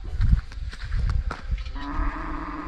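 Cattle lowing in a rural setting: several short, deep moos and grunts in quick succession, fairly close, followed by a longer sustained moo at the end.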